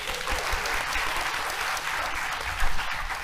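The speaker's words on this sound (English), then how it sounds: "You all deserve a round of applause" Audience applause fills an evening session of a youth economic forum, a steady wash of many hands clapping close and loud for a few seconds with a brief swell near the end.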